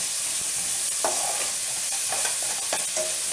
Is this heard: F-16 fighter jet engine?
no